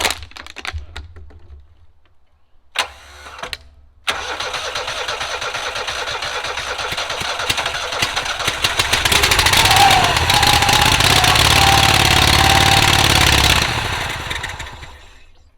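A rusty auction lawn mower engine cranks in short bursts, catches after a few tries and then revs up into a loud, steady running roar that holds for several seconds before dropping off, close by with no talking.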